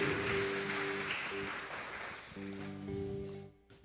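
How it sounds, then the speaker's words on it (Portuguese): Church congregation applauding during a sermon: a soft, diffuse wash of clapping from a crowd, fairly distant and faint, with a sustained tonal drone running beneath it. "Você pode aplaudir Jesus por isso?"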